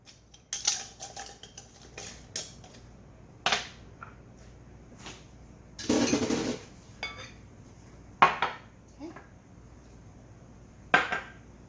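Keto meatball mixture is worked in a bowl with almond flour and onion powder, producing intermittent clinks and scrapes of a utensil against the bowl and a squelchy stretch of mixing between quiet pauses.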